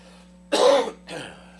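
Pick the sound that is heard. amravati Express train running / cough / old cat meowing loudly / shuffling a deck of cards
cough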